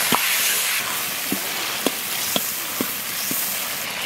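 Seasonings with bean paste and chili paste fry in a hot wok as soy sauce and white liquor go in, giving a steady close hiss with a few sharp pops and ticks.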